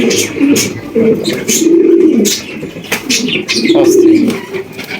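Domestic pigeons at a pigeon farm cooing up close, several low rolling coos in a row with some soft background chatter.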